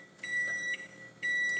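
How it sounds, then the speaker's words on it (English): Microwave oven beeping when cooking finishes: two clear high electronic beeps, each held briefly, close and fairly loud against a quiet room. "It's beeped."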